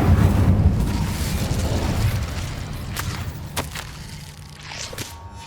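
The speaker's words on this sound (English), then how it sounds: "Incendio!" A fire spell cast in the Hogwarts Legacy video game: a loud, roaring whoosh and burst of flame at the start, then a fading crackling rumble with a few sharp pops near the end.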